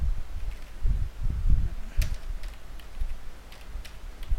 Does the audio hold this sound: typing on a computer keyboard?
yes